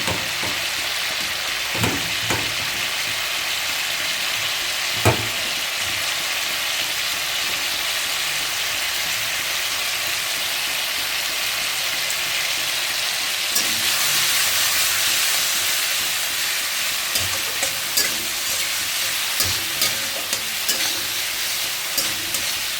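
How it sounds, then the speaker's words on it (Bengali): Potatoes fry in hot oil in a pan for a spicy tilapia curry. A steady hiss and sizzle carries through with a few brief clatters and a louder burst near the middle, and nobody speaks. "আলুটা দিয়ে ভালো করে কষিয়ে নিয়ে"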